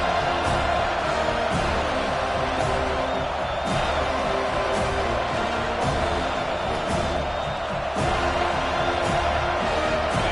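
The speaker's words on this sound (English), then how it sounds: "how nice is it to have the home crowd going absolutely bananas?" A home stadium crowd roars continuously in a college football video game, a loud, dense wall of cheering that holds steady throughout with occasional swells.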